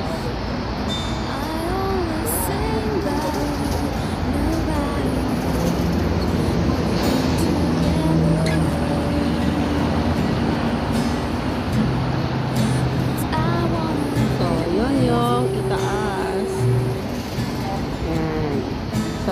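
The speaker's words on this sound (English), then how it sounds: "So, yan yung train sa baba at saka mga bus." Busy outdoor street scene outside Yoho Mall 1 in Yuen Long, with a train and buses passing below as a steady, continuous rumble of traffic. Tonal squeals and engine drones rise over it, and people talk throughout.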